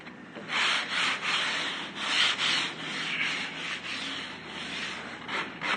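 Hand sanding a rustic wooden tabletop: a rough, hissing rasp repeated in steady back-and-forth strokes, close up and fairly quiet, with no talking.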